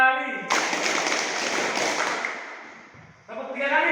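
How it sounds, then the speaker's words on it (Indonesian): Group of children clapping their hands in unison during a classroom clapping game, a dense burst of claps running for about three seconds at close range, with an adult voice speaking before and after. "Tepuk 5 kali."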